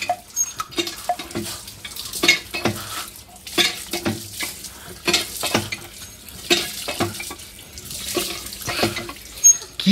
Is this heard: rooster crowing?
no